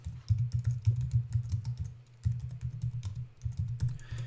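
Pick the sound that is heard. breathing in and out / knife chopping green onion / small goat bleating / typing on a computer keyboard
typing on a computer keyboard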